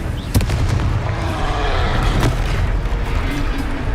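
In the Hogwarts Legacy video game, a Confringo spell blasts with booming explosive bursts: two sharp loud cracks over a dense, rumbling low roar of combat noise that continues throughout.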